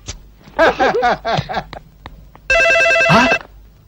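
A telephone in a Telugu film scene sounds one bright, steady electronic ring burst after a stretch of dialogue, with a voice overlapping its end.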